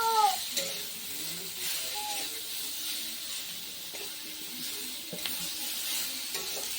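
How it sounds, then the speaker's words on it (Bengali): Turmeric stirred into food sizzling in a pan, a steady hiss of frying with occasional soft scrapes of stirring, close and even throughout. "দিয়ে এটাকে একটু নাড়াচাড়া করছে"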